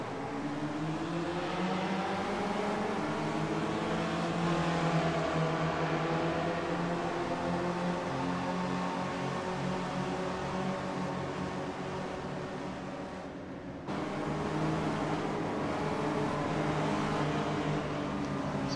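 Several sim-racing cars in SRF spec racers leave the green flag at NJMP Thunderbolt, a dense droning chorus of engines revving together close by, with layered harmonic whine holding steady and briefly dipping before resuming.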